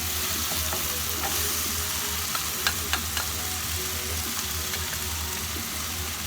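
Diced potatoes sizzle and crackle steadily in hot oil in a pan for a Filipino ground meat omelette, a constant close frying hiss with a few brief pops and no talking.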